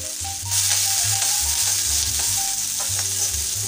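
Dried red chillies, curry leaves and small shallots frying in hot oil, a loud continuous crackling sizzle that swells after the first half second and holds steady, with faint tonal background music.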